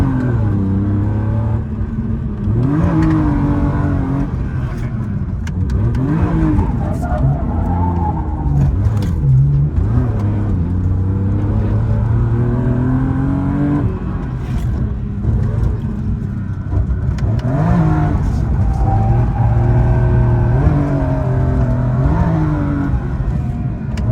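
A BMW E46 M3 drifting on a street in second gear, engine revving up and down in strong rising and falling sweeps with tyre noise, loud and close throughout, with no talk.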